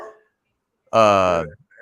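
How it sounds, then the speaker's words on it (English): A dog gives a single close, loud bark in a quiet room, with brief speech-like fragments just before and after. "Sorry if you hear my dog barking."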